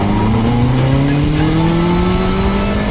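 A fire-damaged Ferrari spins its wheels and slides sideways, engine roaring loud and close with rising revs and tire noise throughout, continuous and without pause.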